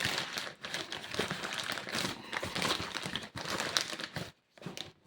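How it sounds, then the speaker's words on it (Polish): Close, continuous crinkling and rustling of paper being unwrapped from PS5 parts and handled, with brief pauses near the end. "Papierka otwieramy."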